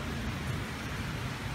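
Steady morning rain falls outside, a dense even hiss of drops on surfaces with a low rumble underneath, continuous and fairly close with no voices.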